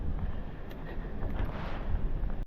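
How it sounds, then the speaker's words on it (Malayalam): Wind gusting across a mountain trekking trail, a steady loud rushing roar buffeting the microphone with low rumble throughout, no voices. "ഇവിടെ നല്ല കാറ്റുണ്ട്."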